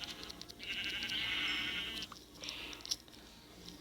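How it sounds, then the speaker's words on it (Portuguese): Sheep bleating in the video game Minecraft, one drawn-out nasal bleat followed by shorter fainter bleats and small clicks. "Ai, eu vou ter que matar essa ovelha. Desculpa, ovelha."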